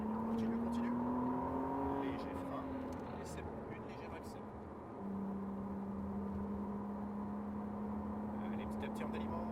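A McLaren Artura sports car on a race track, its engine a steady muffled drone heard from inside the cabin, rising slightly in pitch as it accelerates, with someone talking throughout.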